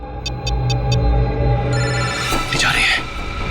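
A phone rings in four quick electronic trills early on, then a steady tone and rising noise follow over a low background hum.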